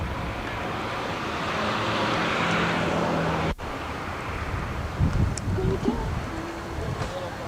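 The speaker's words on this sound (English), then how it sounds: "We're driving down Vine Street now towards State Street into Murray's Center." Broadband road and wind rumble fills the cabin of a car driving down a town street, steady throughout, with a brief dropout midway and faint voices talking later.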